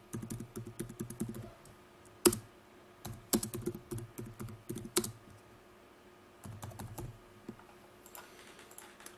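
Typing on a computer keyboard: bursts of quick, close key clicks, some louder single taps, with short pauses between runs and no talking.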